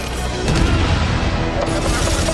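A sticky bomb goes off in The Division during a Dark Zone firefight, a loud dense blast and rumbling barrage of explosive gunfire that fills the whole moment with faint voices underneath.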